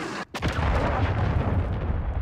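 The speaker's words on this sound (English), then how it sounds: "Friendly cruise missile deployed." Heavy booming blasts from a cruise missile strike in Call of Duty: Modern Warfare III, a sharp impact followed by sustained loud rumbling explosion noise that rolls on without letup.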